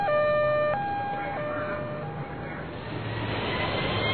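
A fire engine siren from a children's picture-book sound effect blares loudly in stepped two-tone pitches, then fades and trails off into a dim, rumbling background after a couple of seconds.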